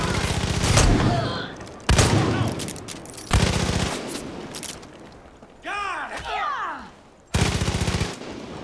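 Bursts of rapid gunfire in Far Cry 5 rattle out in several loud volleys separated by brief pauses, with a whooshing, swooping effect in one gap; speech mixes in among the shots.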